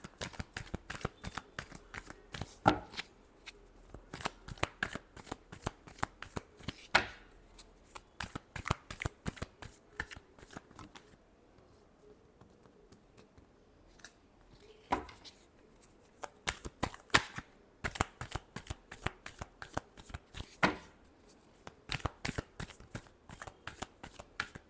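Tarot cards being shuffled by hand, close and quiet, in quick runs of crisp riffling flicks separated by short pauses, with a longer lull in the middle before the shuffling resumes.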